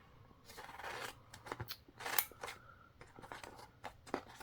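Scissors snip through planner and stationery supplies at a cluttered craft desk, giving several short, crisp cuts with uneven gaps among rustling and handling noises, heard close and fairly quiet.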